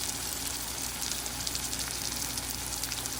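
Spices hit hot oil in a pan while cooking dried fish, producing a steady, moderately quiet sizzle with crackling hiss that continues evenly throughout, with no talking.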